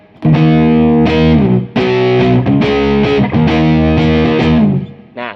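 Electric guitar played through a distortion effect, loud and close, with thick sustained chords struck in several phrases and separated by brief gaps.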